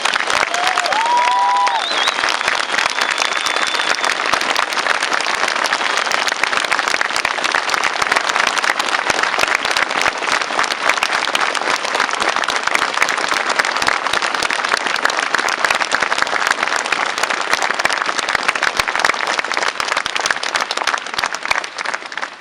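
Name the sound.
audience applause at a memorial concert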